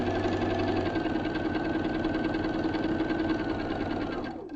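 A sewing machine runs continuously at a steady fast hum and rapid needle clatter, close and even, then slows and stops at the very end; no talking over it.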